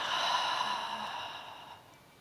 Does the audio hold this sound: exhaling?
yes